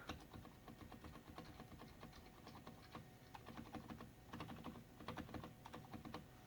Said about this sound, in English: I'll just do the spacebar because I'm really impressed with this spacebar.